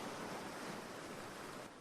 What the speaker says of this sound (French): Là, des vagues infinies et déchaînées d'un bleu profond.